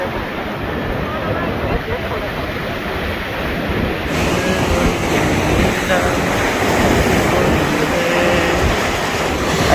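Sea surf on the beach at Cox's Bazar, a broad continuous roar of breaking waves with wind, steady and full throughout, with people talking under it.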